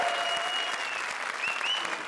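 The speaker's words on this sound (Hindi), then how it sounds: "जोरदार तालियां इनके लिए।" A studio audience at a TV comedy show, the grand finale of Comedy Circus 3, applauds in a steady, moderately loud wash of clapping that continues throughout with no break.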